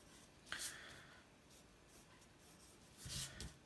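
A pencil sweeps across paper while drawing a freehand circle, with soft scratchy strokes in a couple of short bursts, faint and close against a quiet room hiss.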